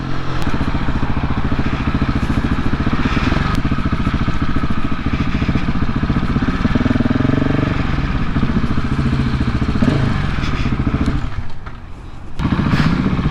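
A 2019 Husqvarna 701 Supermoto is ridden with its engine droning loudly and steadily throughout, with only a brief dip in the sound near the end.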